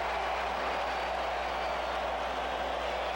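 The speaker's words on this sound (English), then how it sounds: "They'll cheer his every move." Crowd at Wrigley Field cheering a Cubs fielder's catch during a 1984 Cardinals game, a steady, dense wash of distant crowd noise and applause filling the whole moment without a break.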